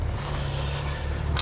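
Loud, steady engine drone from a tuned BMW N54 car pulling in second gear, one continuous close run with a brief hiss near the end.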